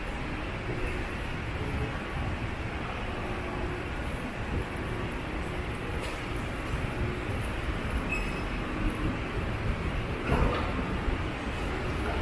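A subway train rumbles steadily at Union Station in Toronto, a continuous low roar with faint squeals and clatter, heard from a moderate distance and without voices.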